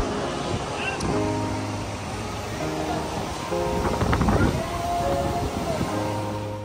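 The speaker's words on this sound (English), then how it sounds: "It's a little windy, apologies." Wind gusts across the open deck of a Royal Caribbean cruise ship at sea, a steady close rush and buffeting on the microphone with a low hum beneath, swelling louder near the middle.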